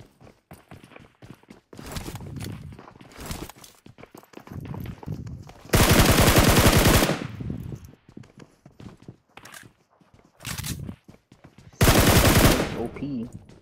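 Bursts of automatic gunfire echo in a PUBG Mobile match, two long loud rapid volleys and several shorter clusters of shots separated by quiet gaps and quieter in-game footsteps.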